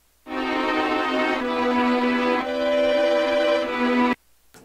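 A held, harmonically rich tone shifted up four semitones by a pitch plugin gives a torn, grainy, warbling texture as its notes change, then stops abruptly into near silence.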